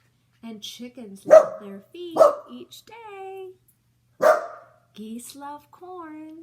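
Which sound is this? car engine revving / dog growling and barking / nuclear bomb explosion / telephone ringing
dog growling and barking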